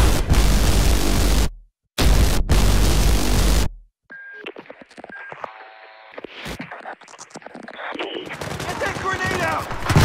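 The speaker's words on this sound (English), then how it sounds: "I'm going to stop you at another beautiful explosion" Explosions and bursts of gunfire in a Battlefield 3 video game teaser trailer, loud blasts and a dense crackling fusillade after loud music cuts out, with scattered impacts and rising rumble toward the end.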